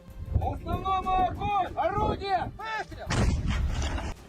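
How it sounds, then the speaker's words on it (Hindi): A Russian artillery cannon fires in the field, heavy booms rolling out amid wind and outdoor rumble, with a strong blast toward the end; voices are present in the background. "इसके बाद एक सैनिक का इशारा मिलते ही तोप से हमला कर दिया गया।"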